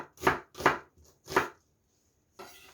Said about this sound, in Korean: 아까 같이 비슷하게 채를 썰어 주세요.